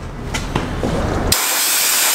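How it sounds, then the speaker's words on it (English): Compressed air blasts through the air passages of a carburettor during cleaning: a few short hissy puffs, then a loud, steady broadband rush of air close to the microphone that continues to the end. "you could blow it with compressed air"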